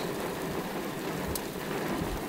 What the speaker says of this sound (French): Avec en fond encore des orages là-bas,